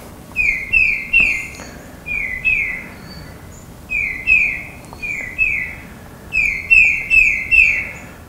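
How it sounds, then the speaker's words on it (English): A songbird in a backyard in early January sings clear rising whistled two-note phrases, peter-peter, in repeated bursts of two or three with short pauses, loud and close, no talk. "it's kind of like a whistle, kind of goes up. If you listen to it, it's Peter, Peter, Peter"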